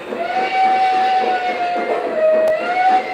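A Lionel B6 model train rolling along its track, a steady close mechanical rumble with a sustained whistle-like tone running through it, no voices.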